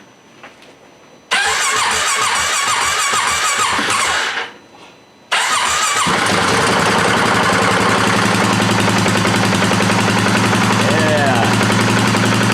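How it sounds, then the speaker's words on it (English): A worn vehicle engine cranks and catches, then idles loudly through a muffler with a little moisture still in it, a steady close rumble after a brief cutout and restart. A voice speaks briefly over it. "Alright, put on the brake and see if it starts."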